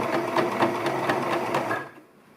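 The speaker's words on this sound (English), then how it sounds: "Let the machine pull the fabric through and make sure you pull your pins out as you go." A sewing machine stitching fabric, a sewing-project chair pouch in directional material, runs in a quick, even rhythmic chatter of needle strokes, close and moderately loud, then stops, leaving a faint quiet tail.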